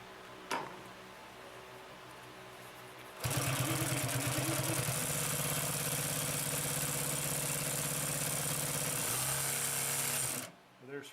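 Consew P2339 double-needle walking-foot sewing machine stitching through layered material, a steady rapid mechanical hum and chatter running for several seconds after a brief pause, then stopping abruptly.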